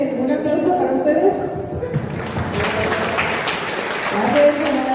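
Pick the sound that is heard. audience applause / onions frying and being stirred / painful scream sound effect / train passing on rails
audience applause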